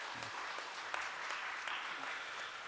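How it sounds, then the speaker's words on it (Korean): Church congregation clapping during a Sunday morning service, a soft, steady wash of applause in a reverberant room, fairly quiet and continuous. "잘 다녀도록 박수로 격려하겠습니다"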